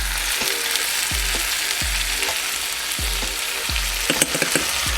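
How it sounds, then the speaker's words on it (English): Chicken teriyaki and pineapple with a splash of pineapple juice sizzle steadily in a hot pan, with rhythmic scraping and stirring strokes about once a second and a few clinks near the end. "You hear that sizzle?"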